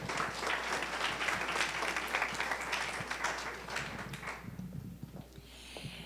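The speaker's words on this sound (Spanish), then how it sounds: "Un aplauso también." An audience claps steadily at a live public presentation of a reading-allies directory, a dense, continuous round of applause that thins out and fades toward the end.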